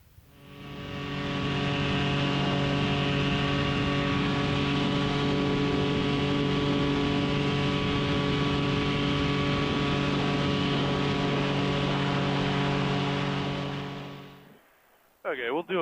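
A Sky Engines Boxer 220s paramotor engine runs at full power in flight, a loud, steady droning roar with a strong harmonic hum held for about fourteen seconds before cutting off abruptly, ending in a brief rustle.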